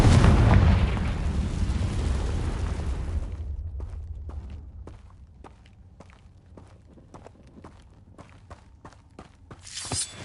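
A Confringo spell explosion in the video game Hogwarts Legacy opens with a loud, rumbling blast that fades over a few seconds, followed by light, regular footsteps and a brief burst at the end.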